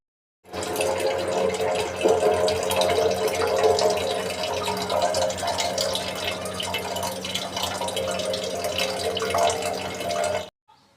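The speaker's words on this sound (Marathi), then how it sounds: "तो पाईप ना ॲक्वाच्या नळाला जॉईंट करून डायरेक्टली हांड्यामध्ये सोडून देते" Water runs steadily from a tap through a pipe into a metal pot, a continuous splashing pour that starts abruptly and cuts off near the end.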